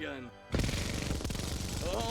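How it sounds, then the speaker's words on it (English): M134 minigun erupts into a dense, rapid burst of continuous fire, loud and close, following a brief moment of a voice speaking just before. "beautiful M134 minigun."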